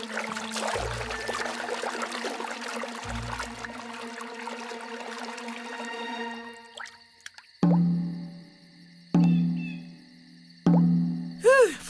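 Cartoon water drips fall one drop at a time as a ninja-style drip torture, heard as three loud isolated plops spaced about 1.5 seconds apart after a stretch of busy musical background.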